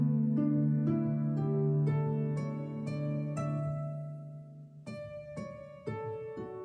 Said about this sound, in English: So before we get to the chime track, which sounds like this,